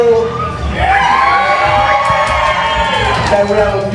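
A live crowd at a fight show cheers, whoops and shouts in a steady loud roar of many voices, with an announcer's voice over it.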